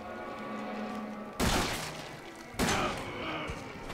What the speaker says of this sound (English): Eat my super shotgun.